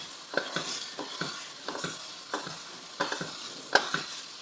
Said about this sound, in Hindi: बस साथ साथ हमने चम्मच चलाना है और इसको भूनते जाना है